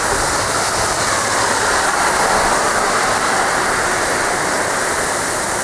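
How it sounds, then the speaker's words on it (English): Steady, heavy winter rainstorm, a dense unbroken hiss of falling rain and runoff filling the whole stretch at constant loudness with no voices. "Rain in the winter time"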